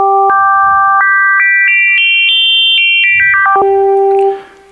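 FM synthesizer resonant waveform holding one pitch while rising resonance emphasizes each successive overtone in stepped jumps upward, then steps back down, a bright clean synthetic tone that cuts off near the end.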